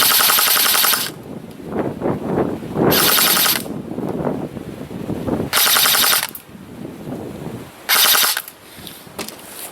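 E&L AK104 airsoft rifle on a 7.4 volt LiPo battery firing four loud full-auto bursts of rapid mechanical clatter, with wind noise in the gaps between strings.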